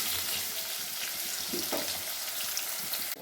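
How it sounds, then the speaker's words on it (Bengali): Potato pieces frying in hot oil until crisp, a steady broadband sizzle throughout with a few soft stirring knocks, close and continuous, with no voices. "আলুগুলো আমি একটু কড়া কড়া করে ভেজে নেব"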